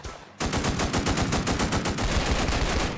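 Sustained rapid automatic gunfire in a Roblox military academy game bursts out after a brief quiet moment, loud and continuous with a fast, steady rhythm.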